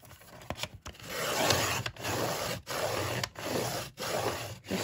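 A blade drawn repeatedly across paper label strips makes close, rough rasping strokes, each long scrape broken by short pauses in a steady back-and-forth rhythm, with no talking.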